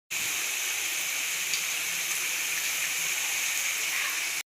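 Karjalu, Telangana-style stuffed sweet pastries, fry in hot oil in a kadai with a dense, even, continuous sizzle that holds steady and close for several seconds before cutting off abruptly.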